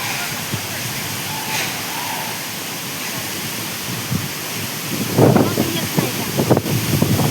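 Savat Sada waterfall in monsoon season sends a steady, broadband rush of falling water and drifting spray, with wind buffeting the microphone and short bursts of louder splashing near the end; no speech is audible.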